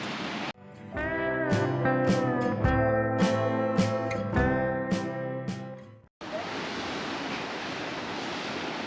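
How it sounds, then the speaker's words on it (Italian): Rough sea waves at Byron's grotto in Portovenere rush with constant hissing surf, broken midway by a louder tonal burst of wind and motor noise before the broad roar of water returns. "Il mare impetuoso."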